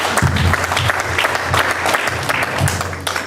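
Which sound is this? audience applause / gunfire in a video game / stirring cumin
audience applause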